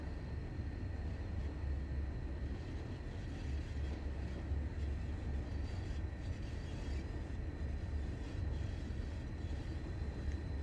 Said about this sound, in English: squealing. The bogies going round the bend there.